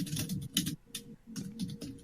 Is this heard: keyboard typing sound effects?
yes